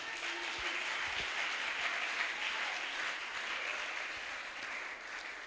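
A Pentecost church congregation applauds and cheers for the Lord Jesus, a steady, fairly faint wash of many hands clapping with mixed voices throughout.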